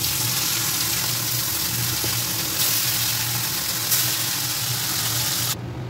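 Latya fish frying in oil in a Bengali home kitchen make a steady, dense sizzle that holds evenly for several seconds before cutting off abruptly, with no talking.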